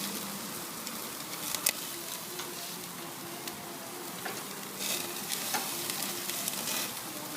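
Tomatoes searing on a hot barbecue grill give a steady, fairly faint sizzle with a few brief crackles and pops scattered through it, and no voices are heard.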